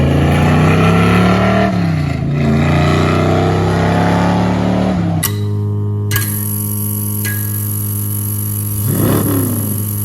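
A 1969 Ford F100 pickup engine drones and revs loudly while driving, pitch climbing and falling with gear changes, then dropping abruptly to a steadier tone with a whining overtone and a final rev swell.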